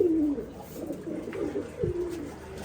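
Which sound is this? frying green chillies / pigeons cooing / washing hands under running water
pigeons cooing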